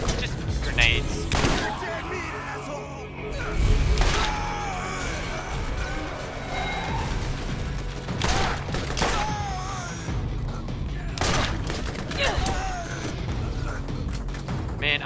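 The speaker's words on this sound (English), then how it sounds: "Just grenades." Repeated grenade blasts and gunfire in the Borderlands video game, a series of sharp booms spread over about fifteen seconds, mixed with game music and talk.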